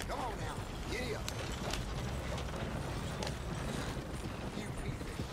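Horse hooves clip-clopping during riding in an Xbox video game, a steady quick hoof rhythm under a continuous bed of game noise and creaks.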